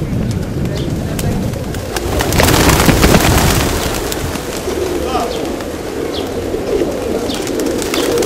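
A flock of pigeons coos in a low, continuous murmur, with occasional wing flaps and rustling, while people talk nearby over steady outdoor background noise.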